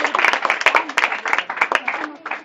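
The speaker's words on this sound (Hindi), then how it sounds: "और तालियां" An audience of students at a school session claps in quick, uneven bursts of applause, lively and close, with a voice speaking over the clapping.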